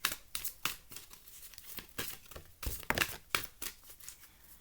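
Tarot cards are handled and drawn from a deck in a series of soft, crisp crinkling and sliding bursts, irregular and close, each brief with quiet gaps between.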